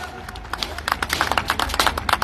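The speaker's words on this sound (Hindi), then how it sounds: "इनके लिए भी जोरदार तालियां" Loud, crisp hand clapping at a company recognition event honouring its managers, with distinct claps rising in a busy rhythm and faint talk in the background.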